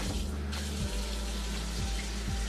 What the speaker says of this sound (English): I'm gonna just run some hot water on it so it defrosts quickly